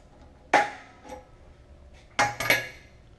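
A cable clamp is tightened onto a wire rope with metallic clinks and taps, one sharp knock followed by a fainter one, then a quick cluster of ringing metal hits a second later, close and without speech.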